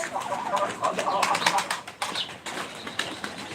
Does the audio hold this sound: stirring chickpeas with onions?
no